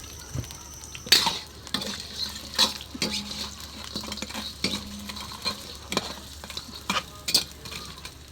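Squash pieces dropped into a pan of sautéed mung beans and crab and stirred, giving irregular scraping and clattering strokes over a light sizzle, with a few sharp utensil clicks.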